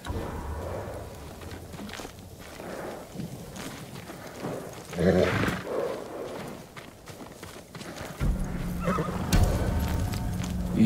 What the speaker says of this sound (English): Let's get to the horses. They're samurai horses.